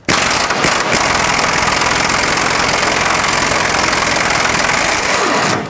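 A power tool, likely an impact wrench, whirs steadily and loudly for about five seconds without pause, working loose the 19mm front control arm bolt at the subframe of a 2009-2014 Honda Fit.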